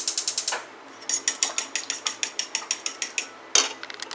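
A gas stove igniter clicks in quick, sharp, evenly spaced bursts, close and crisp, in two runs with a short pause between them.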